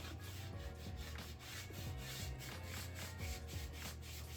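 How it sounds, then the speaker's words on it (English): Steady scratchy rubbing of sandpaper across a carved wooden neck for a cigar box bass guitar, continuous back-and-forth strokes close up, with no talking. "And then you'll just keep sanding and sanding when we get down here to the heel."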